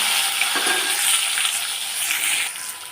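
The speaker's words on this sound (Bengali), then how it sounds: "আমার টমেটোটা ভাজা হয়ে গেলে আমি যে বাটনা করে রেখে সবগুলো দিয়ে দেবো" Tomato pieces fry in a pan of oil tempered with bay leaf and white cumin for a rohu and eggplant curry, giving a steady, close hiss that lasts throughout with no voices.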